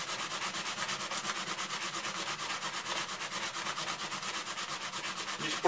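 Rapid, steady rasping of P100 sandpaper scrubbed back and forth over a metal meat grinder blade, an even rhythm of close strokes continuing throughout.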